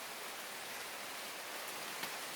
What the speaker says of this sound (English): And it's coming down rain.